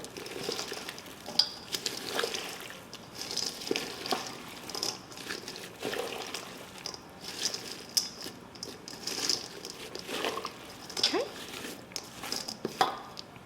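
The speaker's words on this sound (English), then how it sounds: "Give it another stir" A spoon stirs a mincemeat mixture with chopped almonds in a bowl, making soft, repeated wet scraping and clicking sounds that stay quiet throughout.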